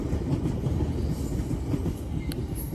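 GO commuter train passing close by, a steady rumbling roar of carriages with faint clickety-clack and a brief high squeal near the end.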